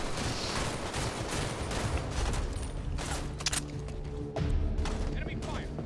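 Enemy gunfire from a Halo 5: Guardians multiplayer match, a dense ongoing fusillade of shots and thuds mixed with game noise, with people talking over it.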